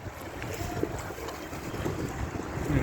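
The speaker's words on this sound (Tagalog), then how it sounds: "Ito yung mga bangka na sinasakyan, mga motorboat papuntang Talim Island" Motorboats at Binangonan Port on Laguna Lake, bound for Talim Island, with a steady outdoor wash of engine drone, water and wind buffeting the microphone, growing slightly louder toward the end.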